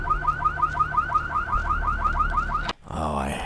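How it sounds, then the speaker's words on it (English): A car alarm in the Vampire: The Masquerade – Bloodlines video game whoops in rapid, evenly repeated electronic cycles, loud and close, then cuts off abruptly and gives way to a different game sound. "Oh, I hate these alarms."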